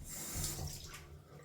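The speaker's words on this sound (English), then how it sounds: "Fresh, cold water." Cold water runs steadily from a tap into a sink for a moment, a close, continuous rushing splash.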